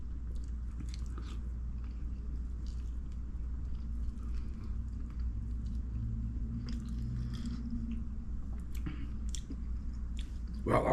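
Hot chicken wings are chewed close to a microphone, soft wet biting and squishy chewing sounds scattered over a low steady background hum, with no talking.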